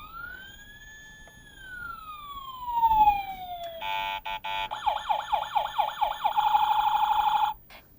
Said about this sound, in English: This is a Tonka truck. Fire truck.